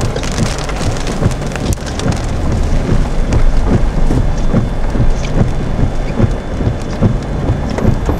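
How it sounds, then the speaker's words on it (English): Heavy rain and hail pour and drum hard on a surface during a tornado chase, dense and loud throughout, with low rumbling underneath. "It was pretty crazy getting blasted by rain and hail from the west"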